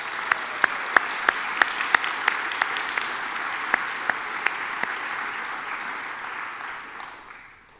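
A church congregation applauds adult confirmation mentors and volunteers, with steady hand clapping and sharp individual claps standing out, fading toward the end.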